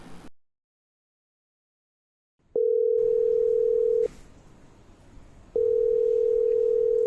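A telephone rings out as a mother calls her son, two long, loud, steady electronic tones separated by a short gap, after a brief silence.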